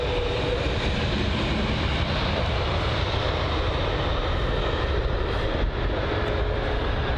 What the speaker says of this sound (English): Using quite a bit of a runway there. You can see it is a large aircraft, of course.